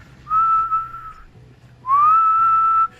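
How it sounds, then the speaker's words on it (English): A person whistles loudly at a dock near the water, with two long steady tones: the first held about a second and the second rising into a longer note, close and clear. "I just start whistling as loud as I can"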